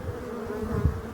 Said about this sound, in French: Et en plus les abeilles sont très calmes.